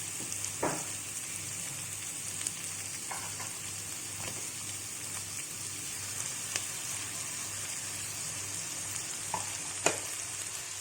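Chilies frying in a pan for kwetiau goreng with meatballs, a continuous bright sizzle with occasional clinks and stirring scrapes, fairly quiet and close, with no voices.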